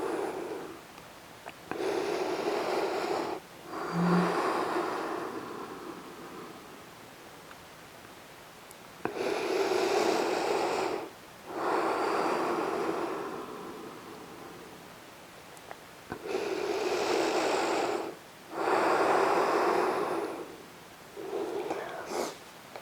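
Slow, deep breathing while lying on a mat in a yoga cool-down, a paced cycle of breathy inhales and exhales heard close and steady, with quiet pauses between breaths.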